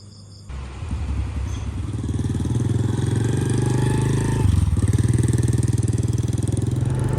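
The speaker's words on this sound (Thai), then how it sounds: "ต่อจากนี้ก็จะเป็นการไปขับทดสอบกันครับ" A 2009 Honda Wave 110i motorcycle engine starts after a brief quiet moment and settles into a steady, close, throbbing idle that pulses evenly, with a short dip before running on.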